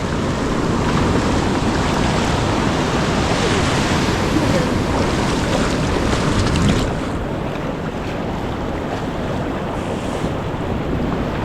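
Steady, loud roar of ocean surf on a crowded seashore, continuous crashing wash mixed with heavy wind buffeting the microphone, no distinct voices standing out.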